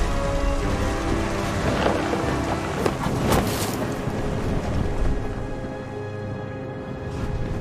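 Thunderstorm at sea in the video game What Remains of Edith Finch: steady heavy rain and wind roar run throughout, with two loud thunder cracks rolling in close together around the middle, no voices.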